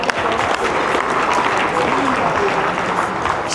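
Guests at an Armenian wedding in Dvin, Etchmiadzin, break into loud, sustained clapping that stays dense and steady from start to finish.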